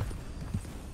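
Horse hooves clip-clop in the Red Dead Redemption 2 video game, with a few muffled thuds under a steady wash of game background noise.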